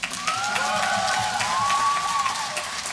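A concert audience applauding students at a New Year symphony orchestra concert, with a steady dense wash of clapping filling the hall alongside a brief tonal sweep.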